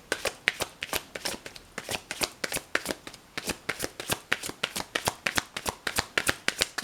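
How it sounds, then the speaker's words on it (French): A deck of cards being shuffled by hand, close and crisp, with a steady run of quick riffling flicks and snaps repeating rhythmically throughout. "je mélange les cartes pour la journée du 26 juin"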